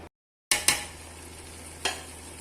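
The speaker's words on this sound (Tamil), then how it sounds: "தக்காளி நல்லா வதங்கட்டும்." Tomatoes cooking in a pot for chicken biryani give a soft sizzle after a brief silence, broken by two quick utensil clinks near the start and another scrape a moment later.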